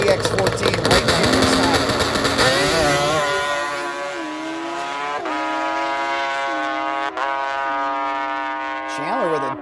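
Drag racing motorcycles, a nitrous two-stroke and a 1441 ZX14 four-stroke, launch together with a loud roar, then the engines rise in pitch through their gear changes as they pull away, under commentary from an announcer.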